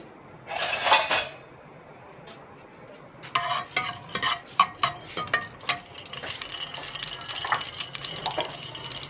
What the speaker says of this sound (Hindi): घी गर्म हो चुका है, इसके अंदर प्याज ऐड करते हैं।